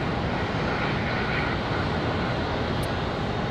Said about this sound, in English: CRJ 701, this one lifting off early.